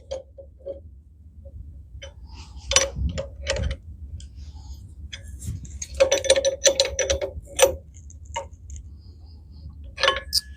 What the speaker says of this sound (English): finish adjusting the tightness using a 3/4 inch open end wrench to make sure that they're snug on the mast